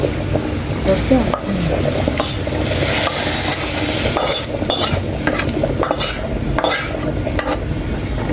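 Hot browned onion tempering poured into a dish of food, bursting into loud, steady sizzling with scraping and stirring clatter of a utensil against the pan throughout.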